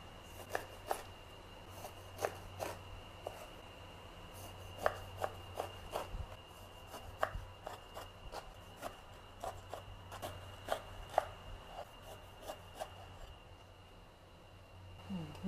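A knife cuts through pineapple with repeated crisp slicing and crunching strokes at an irregular pace, close by and fairly quiet, with no talk.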